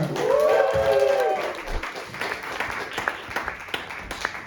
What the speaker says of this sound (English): Everyone give a round of applause to Richard Parr.